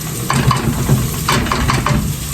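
Onions sautéing in a pot for an Aksaray-style meat and bean dish, a close sizzle with a few stirring scrapes against the pot.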